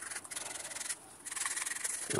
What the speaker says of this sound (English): It's absolutely important that you roughen up both the underside of your shoe and also the underside of the rubber sole itself.